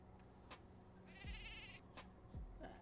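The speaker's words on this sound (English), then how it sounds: "I think that goat wants to be Kara's friend" Goat in The Sims video game giving a few short, faint bleats, a wavering high cry about midway, among soft game sound effects and light thumps.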